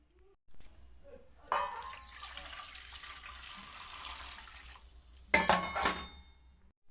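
Water poured into a bowl of jackfruit in a home kitchen, a steady broadband splashing stream running several seconds, then a brief louder burst of clinks and splashes near the end.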